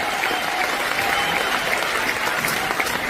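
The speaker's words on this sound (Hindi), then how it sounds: "एक बार हम सबको मिलकर के बहुत जोरदार तालियों से यूएस का धन्यवाद करना चाहिए" Audience at a large business event breaks into sustained, loud applause, a steady dense roar of clapping from many hands that holds evenly throughout.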